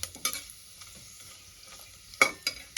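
Tempering spices for a spicy South Indian style tomato rice fry in hot oil, a soft steady sizzle with occasional louder stirring scrapes near the end, close and without talk.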